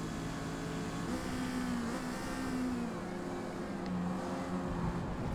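Mazda MX-5 engine in Forza Motorsport C class racing at Silverstone, a steady mid-level drone with shifting harmonic pitch as the car holds speed, continuous and alone without talk.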